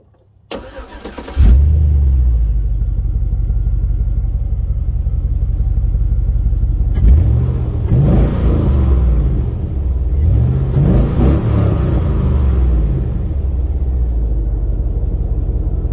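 A 2004 Chevy Tahoe LT Z71 V8 starts and settles into a deep idle through Flowmaster dual exhaust, then gets revved up hard twice with rising and falling growls, loud and close with no talking.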